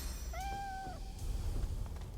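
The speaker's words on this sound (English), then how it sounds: "Hold on, kitty cat. I'm getting you out of there." A single short, clear cat meow from the video game Divinity: Original Sin 2, rising then falling, heard over a low ambient game background.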